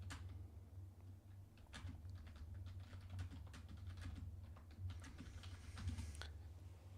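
Fast, uneven clicking of a computer keyboard being typed on, fairly quiet and close, over a low steady hum with no talking.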